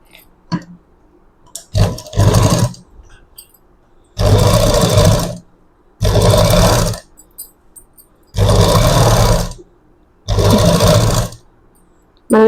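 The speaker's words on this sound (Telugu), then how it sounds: "ఇప్పుడు పాదం మార్చుకొని మనం ఇక్కడ పైపింగ్ మీద ఇంకో కుట్ట అనేది వేసుకోవాలండి." Sewing machine stitching along piping on a garment neckline, running in four steady bursts of about a second each with short pauses between, close and loud, preceded by a few brief handling clicks.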